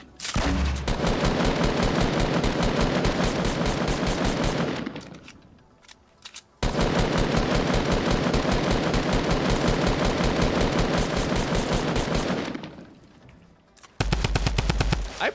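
Fortnite video game gunfire: long sustained bursts of rapid automatic fire, loud and close, with a brief lull in the middle and a sharp final burst at the end, no talking.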